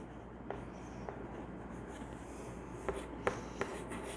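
Handwriting on a surface during an engineering lesson about beams, heard as faint scratching strokes with a few soft taps, under a steady low room hum and without voices.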